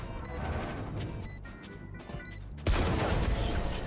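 An Outlaw sniper rifle fires in Valorant, a single heavy crack that cuts in late and rings out loudly over quieter game ambience and faint clicking footsteps.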